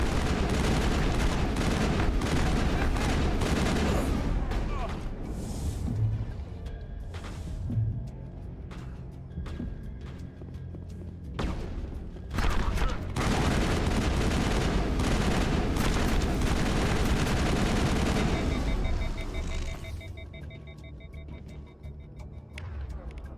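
Assault rifle fire in the video game Mass Effect, long sustained automatic bursts with sharp individual shots cutting through a loud, dense battle mix, easing in quieter stretches before resuming.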